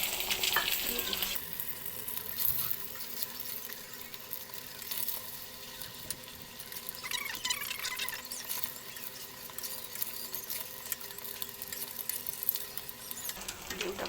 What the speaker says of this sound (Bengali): ডিমটা ভাজা হয়ে গেছে